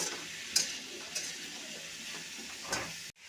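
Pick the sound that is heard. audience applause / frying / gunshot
frying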